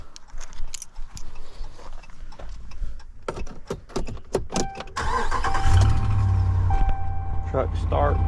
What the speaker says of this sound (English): Truck starts.